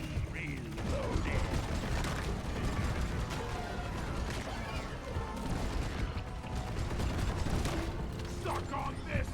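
Gunner weapon reloading in Deep Rock Galactic, clicking and ratcheting mechanical clatter amid a dense, loud backdrop of combat noise and a swarm fight, with voices talking over it.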